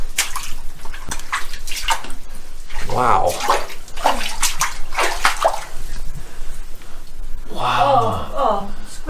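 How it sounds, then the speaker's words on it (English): Wet, squishy squelches of mud pressing between bare toes repeat in uneven bursts, close and fairly loud, with water sloshing around them and a person talking and exclaiming over the sound. "Oh, mud between the toes, yeah. I'm adding those sound effects, by the way."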